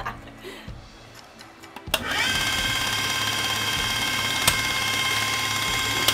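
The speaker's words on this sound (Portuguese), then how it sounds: "Era uma retífica de válvula de automóvel. Eu transformei no gerador de curva de lente." A converted automobile valve grinder, repurposed as a lens curve generator, starts up with a sharp click and settles into a steady mechanical hum and whir, with faint ticking, running alone.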